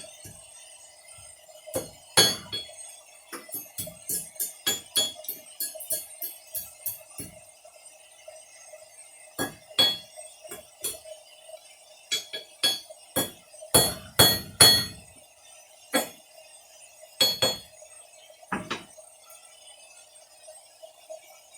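A hammer strikes a hot cut on the edge of an anvil, giving sharp metallic clinks and rings in irregular bursts, some rapid clusters and some single blows, set against a quiet, faintly ringing background.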